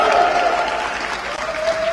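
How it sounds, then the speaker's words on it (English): An audience at a UK F4 esports racing competition cheering and applauding, a dense loud burst of clapping and whoops with some voices mixed in. "Give us a cheer."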